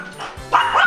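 A dog gives a quick pair of close, loud barks indoors in a home, short and sharp, with no talk over them.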